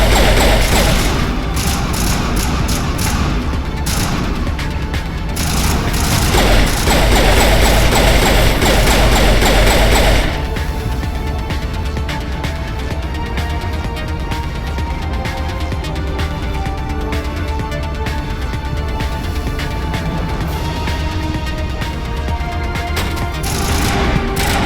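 Dense gunfire in a Mass Effect firefight against snipers, with heavy rapid shots, thuds and booms in a loud continuous barrage that eases slightly partway through, with no talking.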